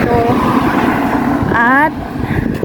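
Traffic streams steadily along a Hong Kong highway in a loud, continuous roar, with a voice talking over the vehicle noise.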